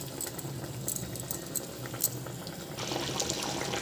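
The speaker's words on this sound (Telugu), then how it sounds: "ఇలా బాగా మరగాలి." Fish curry with coriander bubbles in a pot, a soft, steady simmering patter with small pops and faint liquid movement, close but quiet and without speech.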